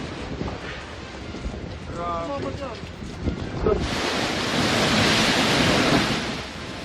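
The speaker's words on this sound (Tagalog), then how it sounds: "Kasabay ng hampas ng hangin ang lakas ng pag-ulan bunsod ng bagyong Pepito." Heavy typhoon wind from Typhoon Pepito roars and buffets the microphone, swelling into a loud, hissing rush of wind-driven rain in the second half, with brief muffled voices early on.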